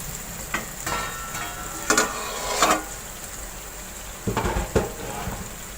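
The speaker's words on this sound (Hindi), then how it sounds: "इसको मैं फ्राई कर लूँगी आलू।" Potatoes fry in oil with a continuous soft sizzle, broken by several clattering stirs of a spatula against the pan.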